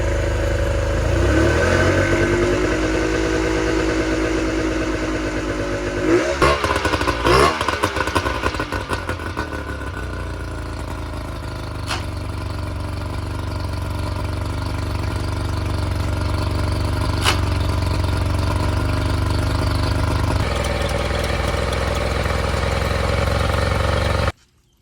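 A Scout 155 boat's outboard engine runs loud and close, its steady drone swelling as the RPM is raised, with clattering and a few sharp ticks, before it settles and cuts off abruptly at the end.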